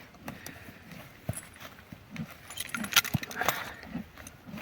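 Mare's hooves clip-clop irregularly on a hard surface nearby, mixed with jingling tack and soft shuffling.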